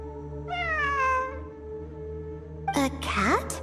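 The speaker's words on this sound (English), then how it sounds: "I'm not hearing things. It really is a cat." A cat meows twice in the video game Genshin Impact, first a drawn-out falling meow, then a shorter, brighter one near the end, both over a steady low background hum, with no speech.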